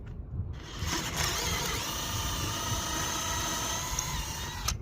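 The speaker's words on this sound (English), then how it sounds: "And I'm going to drill down through the deck core." Power drill boring down through the cored deck of a sailboat during deck replacement work, a steady loud whine running continuously close by with no talk.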